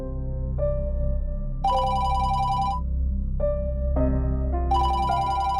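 An incoming call's ringtone plays in a musical, repeating phrase of bright electronic notes, steady and fairly loud, with no talking over it.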